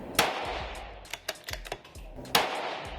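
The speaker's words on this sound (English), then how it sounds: "I'm just gonna be shooting at numbers on that target" A Savage B17 17HMR rimfire rifle firing at an outdoor range: two sharp, loud gunshot cracks about two seconds apart, with quieter clicks and bolt or handling noises between them.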